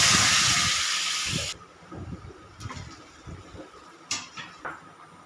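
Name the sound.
vegetables and potatoes added to hot oil, sizzling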